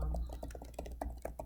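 Quick bursts of typing on a computer keyboard, an assignment title keyed in Google Classroom, with rapid close clicks in a short run.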